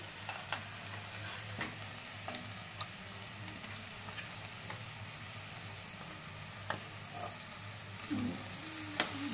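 Ground chana dal being stirred in an oiled pan, with light scraping ticks and soft sizzling at a low level, fairly steady with occasional small clicks of the spoon against the pan.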